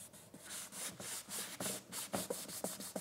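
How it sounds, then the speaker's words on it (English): An alcohol wipe rubs back and forth across a surface in a car being prepared for a 3M adhesive strip, giving soft, close, rhythmic scrubbing strokes at a quiet level with no talking. "I've got a little alcohol wipe here just to clean this surface"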